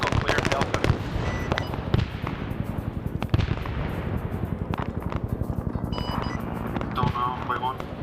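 Rapid bursts of gunfire from SOG Prairie Fire, a Vietnam War game, crackling continuously throughout with several sharper, louder shots standing out over dense, overlapping automatic fire.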